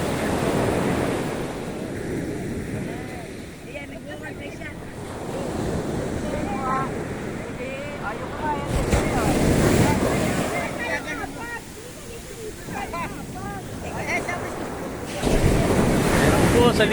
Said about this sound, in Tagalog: ang dagat umaalon